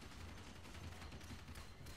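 Rapid turret gunfire in the video game Shadow Complex, a steady, dense stream of loud shots running continuously through the whole stretch with no pauses.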